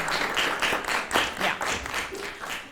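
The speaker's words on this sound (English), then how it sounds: "Let's give Katie a round of applause." A small audience applauds at a meeting, with distinct claps in a loose rhythm, close and moderately loud across the whole stretch.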